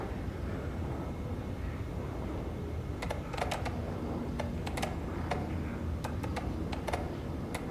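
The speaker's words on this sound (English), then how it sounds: "Why does it make a typing sound when you just hover over a key?" Keyboard typing clicks from hovering over a key in the video game Alan Wake 2, a burst of crisp, irregular taps starting partway in over a steady low background hum.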